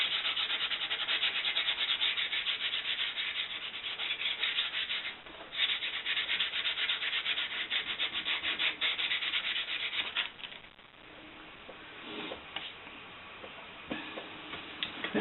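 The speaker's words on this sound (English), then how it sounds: "I'm just giving it a very light sanding." Light sanding of a wooden plaque after its stickers have been removed: a steady, close scratchy rubbing that runs continuously, easing off briefly twice, with no talking.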